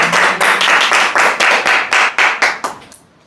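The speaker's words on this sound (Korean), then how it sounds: "하나님께 영광의 박수 올려 할렐루야." A church congregation at a Saturday prayer meeting claps in praise, about a dozen loud unison claps in a steady quick rhythm that stop abruptly, with no talking.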